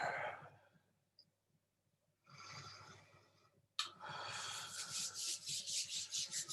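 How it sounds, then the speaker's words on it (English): Palms rub together during a chi-cultivating exercise, a soft dry swishing in two bursts separated by a pause, the second longer and pulsing rhythmically, close and quiet. "Rubbing the hands together."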